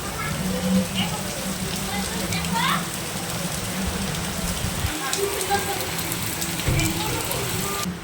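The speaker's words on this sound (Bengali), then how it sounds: "ঝাপ্পা বৃষ্টি নেমেছে" Heavy rain pours steadily in the evening as a dense, continuous hiss, with faint voices and background activity mixed in underneath.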